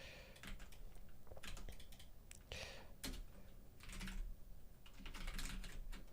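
Rapid typing on a computer keyboard while writing web development code, with clustered bursts of key clicks at close range and short pauses between them.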